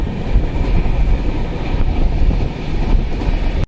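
Passenger train rolling along the tracks on a route out of Raipur toward Visakhapatnam, a steady loud rumble with broad low-end roar and faint rhythmic clatter, running continuously and close up with no voices.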